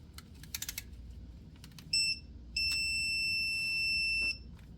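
An electronic torque wrench tightening the oil pan bolts on a 2017 Honda Civic 1.5L turbo gives a short high beep, then a longer sustained tone, after a few soft ratcheting clicks, close and clear.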